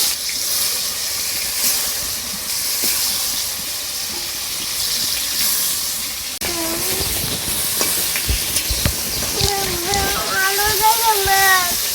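Pieces of snakehead fish fry in hot oil in a wok, a steady close sizzle and hiss with occasional clatter of turning, and a voice talking over the frying.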